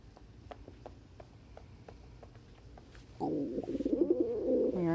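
A pet bird coos close by indoors, a soft low warbling call that starts partway through and continues steadily, preceded by faint ticking sounds.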